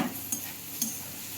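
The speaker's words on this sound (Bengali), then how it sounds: "এই যে একটু ওলকপি কেটেছিলাম, সেটাকে একটু ভেজে নিচ্ছি" Kohlrabi pieces frying in a pan, with a steady soft sizzle and two sharp scrapes of a stirring utensil against the pan, close and without talk.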